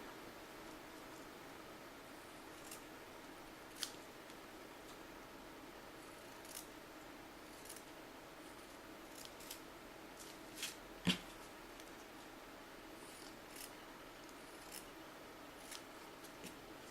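Scissors snip through white fabric flower petals in sparse, quiet, sharp clicks spread irregularly over a faint, steady background hiss.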